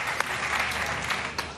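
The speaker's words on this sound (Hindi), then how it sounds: "जोरदार तालियां" Dense, steady applause from an audience at a prize-quiz show, loud and even throughout with a few sharper claps standing out.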